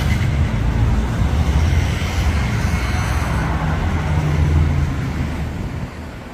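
A car approaches from afar along a road lined with parked supercars, a steady broad rumble swelling gently and easing off without any voices.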